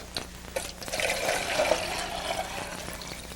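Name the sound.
water poured out of a squeezed sponge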